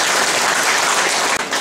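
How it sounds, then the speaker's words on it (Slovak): Loud, steady audience applause fills a dance show evening, dense clapping throughout with a brief dip near the end, no voices over it. "Veľký potlesky."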